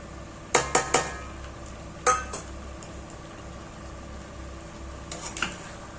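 A mixed pickle of amla, olive and hog plum being stirred in a pan with spices on top, heard as a few sharp metallic clinks and scrapes of a spoon against the pan in short bursts over a quiet background, without speech.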